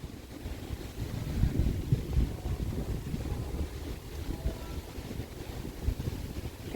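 Wind blowing outdoors, continuous low rushing and buffeting against the microphone that rises and falls in gusts, loud and close with no speech.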